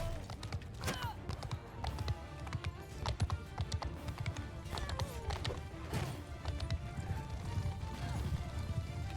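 Horses gallop in a mounted battle in the video game Mount and Blade II: Bannerlord, with a steady clatter of hoofbeats mixed with sharp impacts and crashes throughout.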